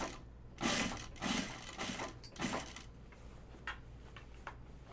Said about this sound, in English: Put that fold line just past your original stitch line and stitch it down.